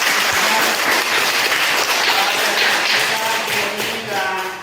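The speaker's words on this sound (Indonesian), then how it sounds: "kita berikan aplaus" A classroom of students breaks into loud, dense applause that fills the space for a few seconds before trailing off slightly.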